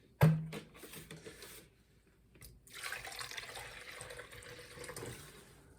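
White vinegar is poured for homemade mustard: a sharp knock, then a soft, steady trickle of liquid that runs for a few seconds, close and quiet.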